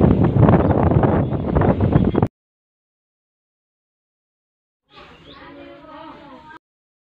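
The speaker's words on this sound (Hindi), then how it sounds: "इधर बहुत ही हवा चल रही है और आवाज़ भी आ रहा होगा वीडियो में।" Strong wind blasting over open ground straight into a microphone, a loud dense buffeting roar for about two seconds that cuts to silence, followed later by a fainter burst.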